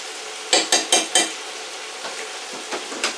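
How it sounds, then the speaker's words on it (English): Butter dropped into a pan of hot olive oil and garlic gives a run of four sharp clattering stirs and spatters, then a softer, steady sizzle with a few lighter knocks, close and fairly loud. "I'm going to add a little butter, because butter just makes everything better."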